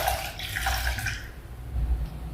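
Water pours steadily into a tamarind rasam mixture in a kitchen, a close continuous splashing and trickling that lasts about two seconds before easing into a low gurgle.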